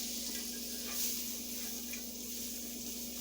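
Chopped onions frying in a pan give off a steady, even sizzle with a faint constant hum beneath, no voices.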